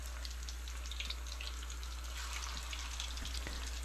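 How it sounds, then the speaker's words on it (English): Eggplant dumplings frying in hot oil, a soft continuous sizzle and crackle with a steady low hum beneath, faint and close throughout. "I'm dumping it in the hot oil to fry them up"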